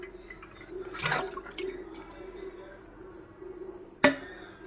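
Pieces of spiced gendi fish dropped into a simmering tamarind fish curry, giving a wet splash near the start and a sharp plop near the end over a low steady simmer.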